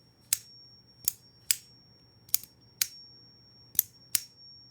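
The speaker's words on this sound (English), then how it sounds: "So you have a mix of a click and a tuning fork. So it is a very loud ping, I guess." An Iron Curtain fidget toy snaps out seven sharp, separate clicks, each ringing with a bright, loud tuning-fork ping, at an uneven pace over a quiet background.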